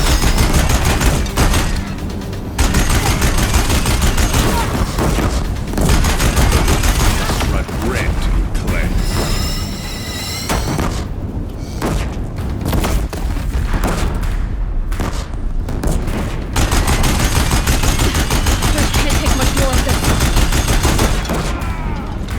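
Deathbringer machines firing heavy guns in Horizon Zero Dawn, with loud, sustained bursts of rapid gunfire and booms continuing throughout, mixed with in-game voices and battle noise.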